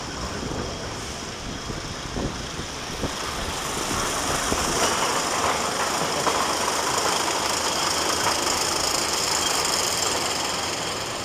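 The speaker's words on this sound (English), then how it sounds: "Let's have a ride on another classic Aero Steeplechase." Aero Steeplechase ride running at Blackpool Pleasure Beach, a broad steady rumble of wheels on track and mechanical clatter that swells slightly after a few seconds and carries on continuously, with no talking.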